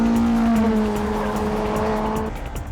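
A high-power Subaru Impreza and a Toyota AE86 Hachi Roku race on a mountain touge road, engines droning loudly at steady pitch with tires squealing before the sound eases off.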